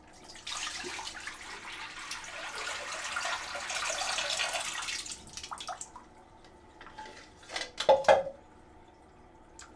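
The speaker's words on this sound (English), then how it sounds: "Now we dump out the water and take the film out." Water is poured and splashed out of a film developing tank into a sink for a few seconds, followed by quieter drips and a couple of clattering knocks of the plastic tank.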